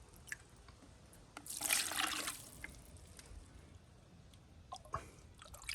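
Water scooped from a winter medaka (Japanese rice fish) pond: one splashy scoop and pour lasting about a second, with a few scattered drips before and after in an otherwise quiet setting.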